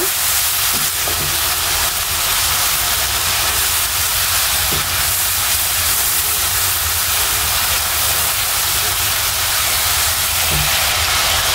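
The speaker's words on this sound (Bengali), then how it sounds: "মশলাগুলো ভালোভাবে কষে নিব" Spices for shrimp pilau sauté in hot oil, giving a loud, constant hissing sizzle that fills the whole stretch close up, with only faint clinks and no talking.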